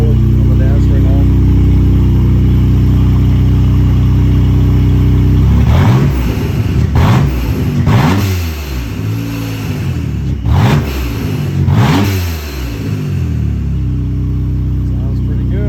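An engine idles steadily, then revs up in several sharp bursts of throttle, rising and falling, loud and close throughout.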